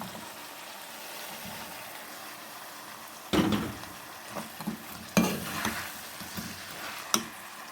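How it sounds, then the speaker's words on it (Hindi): Fenugreek leaves and potatoes sizzle in a pan, a soft steady frying hiss punctuated by several sharper scrapes and clatters as a spoon stirs, with no talk. "ये देखिए ये हमारी मेथी जो है भून गई है"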